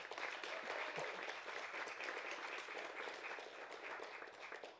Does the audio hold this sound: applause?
yes